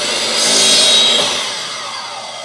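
A miter saw blade whines loudly through wood in one short cut, rising quickly and then fading as the blade spins down.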